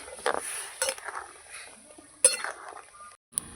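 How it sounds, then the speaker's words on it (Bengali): Soybean chunks are stirred into a pot of boiling water with a metal spoon, giving a few sharp clinks and scrapes against the pot over a soft bubbling hiss, close and alone. "সোয়াবিনটা দিয়ে দেবো সোয়াবিনটা দিয়ে নাড়িয়ে নেব"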